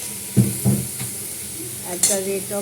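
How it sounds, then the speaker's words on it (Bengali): Chicken kosha cooking in a pan: a few distinct scrapes and knocks of stirring over a steady sizzle, close and clear. "আজকে চিকেন কষা রান্না করছি"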